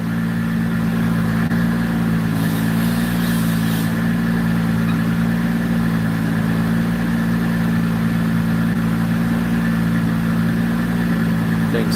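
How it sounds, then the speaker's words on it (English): A car engine runs on a dyno with a loud, steady, droning hum that holds at one level for the whole stretch, with no revving and no talk. "Sounds so good on the dyno."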